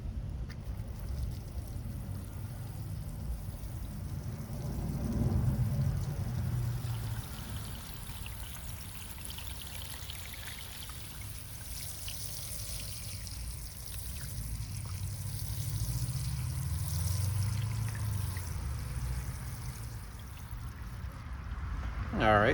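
Water pours and trickles steadily onto a potted avocado tree, with a couple of louder splashing surges, set against a low background rumble.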